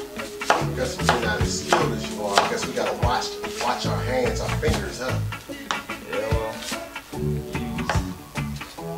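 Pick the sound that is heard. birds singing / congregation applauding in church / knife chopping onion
knife chopping onion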